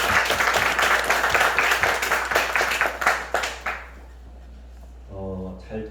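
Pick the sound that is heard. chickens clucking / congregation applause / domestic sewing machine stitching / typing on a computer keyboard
congregation applause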